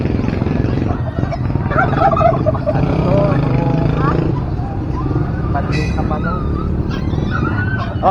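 A turkey gobbles at a busy Saturday pet market in San Carlos City, Pangasinan, its calls rising through crowd chatter and passing traffic, with people talking nearby.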